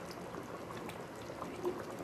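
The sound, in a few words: fish curry boiling in a pot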